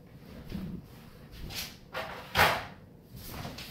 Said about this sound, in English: obviously take the drawer and everything out.